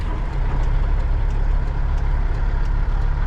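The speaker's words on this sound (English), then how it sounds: "I feel like I'm hearing a noise I don't like from the engine bay." A semi truck's engine runs steadily up close, a dense low rumble with a possible unwanted noise from the engine bay, continuous with no talking.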